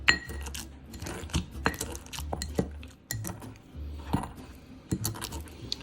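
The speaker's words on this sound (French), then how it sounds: "maintenant avec mon pilon, je vais bien hacher le tout pour faire une purée" A pestle works figs and garlic in a mortar, irregular hard knocks, scrapes and clinks close up, some sharp, some dull grinding strokes, with no talk.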